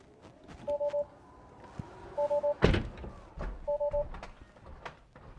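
Rear door of a 2018 Tesla Model X 100D closing automatically: three sets of short electronic warning beeps repeat, broken midway by a solid, close thunk as the door shuts, with faint background noise.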